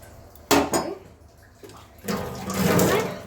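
Bitter gourd and drumstick pieces dropped into boiling lentil dal, with pot and utensil clatter, a splash, and bubbling liquid swelling louder toward the end.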